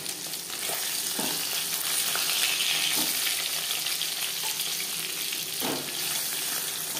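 Pieces of silver carp fry in hot oil, giving a steady, dense sizzle throughout with a few brief utensil knocks of stirring, and no voices.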